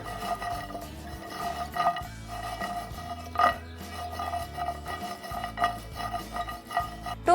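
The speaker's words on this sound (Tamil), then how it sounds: "நல்லா டாஸ் பண்ணிக்கோங்க இந்த வால்நட்டை." Walnuts being tossed and stirred in a pan as they roast, giving close, uneven clattering and scraping with occasional louder knocks against the metal.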